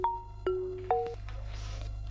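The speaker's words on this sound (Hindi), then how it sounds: "अरे भैया फोन कर रहे हैं।" An incoming-call phone ringtone in a Hindi action film scene, sounding as a short series of clear electronic melodic tones, loud and close, with no one speaking over it.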